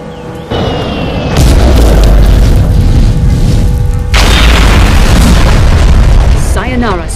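A bomb blast booms in Mercenaries 2 on Xbox 360, the game's loud sustained roar rumbling for several seconds, a second heavy burst hitting midway, and a voice calling out over the din.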